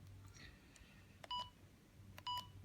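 An old mobile phone with a vibrate-spin feature, still working, gives short electronic keypad beeps as a PIN code is entered, two clear tones among faint clicks and background hiss.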